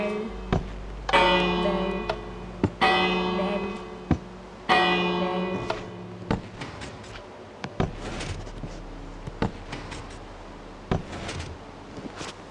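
Several bright bell rings with ringing overtones, each struck then decaying, followed by scattered clicks and knocks.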